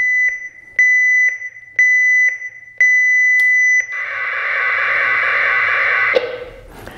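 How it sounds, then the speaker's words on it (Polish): A series of loud, regular electronic beeps from a marine radio's digital distress alert, followed by a sustained harsh buzzing data tone lasting a couple of seconds, with no speech. "Tak wygląda alarm distress wysłany cyfrowo"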